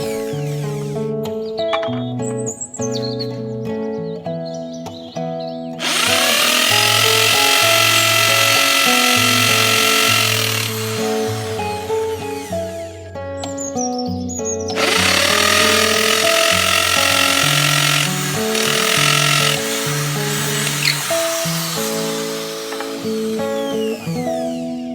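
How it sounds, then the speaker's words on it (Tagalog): Electric drill boring holes into pointed wooden stakes for a baklad fish trap, two long loud grinding bursts of several seconds each, separated by quieter handling sounds. "bubutasan naman natin gamit ang barena."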